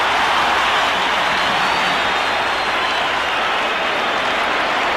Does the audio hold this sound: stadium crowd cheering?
yes